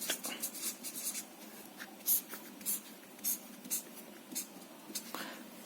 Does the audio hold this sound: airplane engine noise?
no